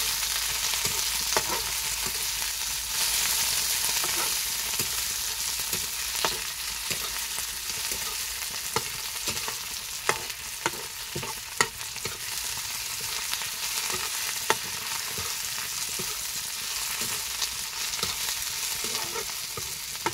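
Tomatoes added to fried onion sizzle in a pan over a rustic wood-fired stove, a steady frying hiss with frequent sharp stirring clicks and scrapes throughout, close and alone without talk.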